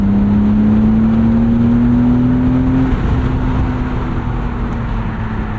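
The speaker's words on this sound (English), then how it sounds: "Such an honest and raw inline-6 exhaust note. No turbos to spoil anything." A 1999 BMW M Roadster's S52 inline-six drones through a Dinan catback exhaust, the pitch rising steadily under throttle before easing off into a steady cruise, close and loud with wind noise.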